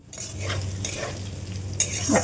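Jackfruit seeds are stirred and fried in a pan: scraping stirring strokes over a soft, continuous sizzle, close and fairly quiet, with no voices.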